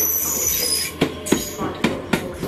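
A ScotRail Express train at Edinburgh Waverley station, with a steady rumble of rail cars and four sharp, evenly spaced clacks of wheels crossing rail joints.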